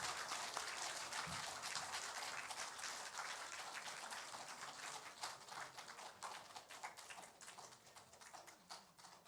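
A congregation at a Sunday worship service claps as children's choir members walk off, a faint, distant patter of many hands that runs steadily for several seconds and gradually thins out.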